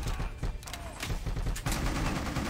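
Gunfire from shooting enemies in Bad Boys: Miami Takedown video game, loud dense bursts of rapid shots packed closely together, filling the whole moment with little pause.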